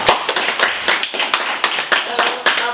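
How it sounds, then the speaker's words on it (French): Women clapping for the canton women's president at a sub-prefecture gathering in Danguira, a loose group of sharp, uneven claps close by, falling into rough bursts with short gaps. "applaudissez la présidente des femmes du canton"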